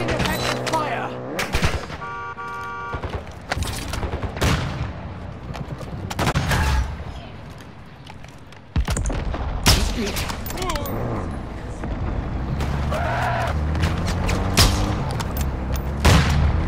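Enemy gunfire crackles through a tactical shooter firefight, with repeated sharp shots and rapid bursts scattered across the scene, some close and loud, some distant, over background noise, tones and radio-like voices.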